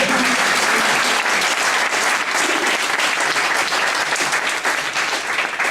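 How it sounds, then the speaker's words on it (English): Warm, sustained applause from an audience at a June 2013 graduation ceremony, a loud, even wash of many hands clapping together without pause. "I'd like to everyone to give them a warm round of applause"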